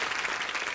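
A studio audience on a Hindi comedy talk show applauds a guest singer in a short, dense burst of clapping with no pauses.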